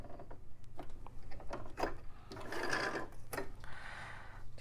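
A Brother LX3817 sewing machine backstitches in quick bursts of rapid mechanical stitching, quiet and close, with short pauses between runs and no voices.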